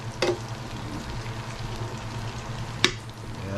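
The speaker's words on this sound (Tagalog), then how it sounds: "Gigisa na natin yung beef ribs." Beef ribs sauté in a pan with a soft continuous sizzle, broken by two sharp clinks or scrapes, one at the start and one near the end, with no talking.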